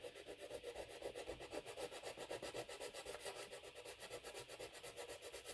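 A sculpture is being sanded by hand with old 220-grit sandpaper to smooth down oozed material, giving a steady, rapid back-and-forth rasping that runs continuously and close up, with no talking.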